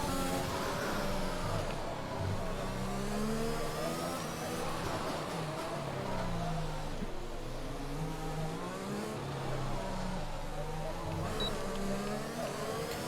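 An F1 car from the F1 2021 racing game laps Monaco, its engine droning continuously with rising and falling revs through gear changes, loud and steady for the whole stretch, and a voice speaks faintly beneath it.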